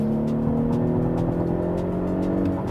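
Engine of a 2018 Audi SQ5 quattro SUV revving from inside while driving, a steady close drone that builds and holds over a few seconds with faint ticking in the background and no voices.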